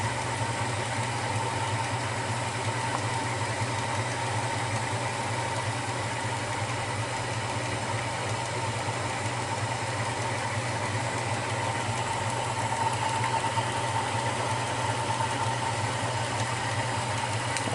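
Maxant honey extractor spinning frames of honey, a steady mechanical hum with low rumble and constant whir that holds even throughout, with no talking.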